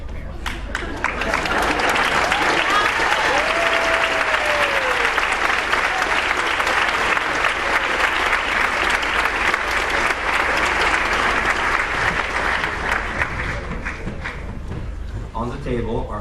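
Audience applause at a high school National Honor Society induction ceremony, as the inducted juniors turn to face the room; dense, steady clapping from a large crowd lasts about fourteen seconds, then fades, with a brief voice rising at the end.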